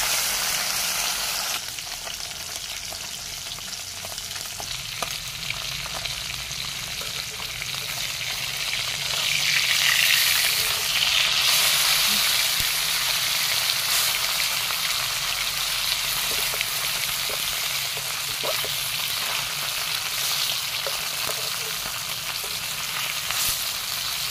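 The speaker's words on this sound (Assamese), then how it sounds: "তেলখিনি গৰম হ'লত ইয়াতে মাছ দি লৈছোঁ।" Fish pieces frying in hot mustard oil in a wok for a sour fish curry: a loud, steady, crackling sizzle that swells midway and holds for over twenty seconds, with faint occasional stirring clicks and no speech.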